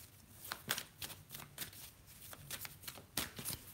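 A deck of tarot cards being shuffled by hand, a quick run of crisp riffling flutters and soft slaps repeating close and fairly quiet, with no one speaking.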